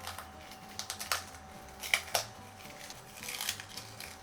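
Sheets being crumpled by hand for a traditional Christmas British bake, a few short dry crackling bursts spaced across the moment, close and fairly quiet over a faint steady hum.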